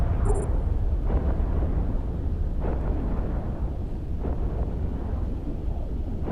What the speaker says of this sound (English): And the second Dominics also exploded